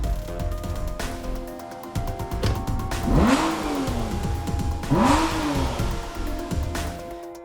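Aston Martin V12 Vantage S engine revving hard, with two sharp rising-and-falling rev sweeps over a steady mid-pitched idle, loud and close.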